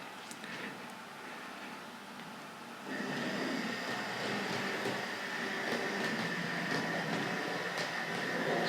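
Tri-ang R.153 saddle tank model locomotive running on a model railway track at a show, a steady rolling rumble with faint clicking that grows louder and busier partway through, with no talking.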